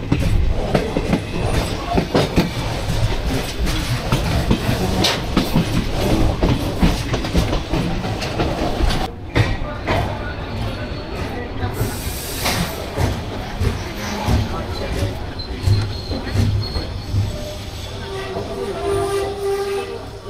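A commuter passenger train rumbles steadily along the rails between Dhaka and Joydebpur, Bangladesh, for the whole stretch, wheels clattering in a dense, loud roar with brief shifts in tone midway.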